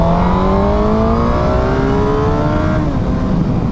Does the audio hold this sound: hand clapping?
no